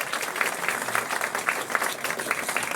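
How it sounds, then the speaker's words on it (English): Audience at a magic show applauds a Sioux City Magic Club performer, a dense, even round of clapping running through the whole stretch. "Give him a round of applause"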